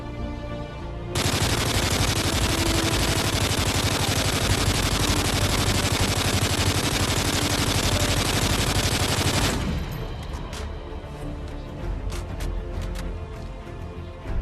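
An L86 LSW light machine gun fires in a video game, one long continuous automatic burst of about eight seconds, loud and dense. It ends abruptly, leaving quieter clicks and faint game ambience.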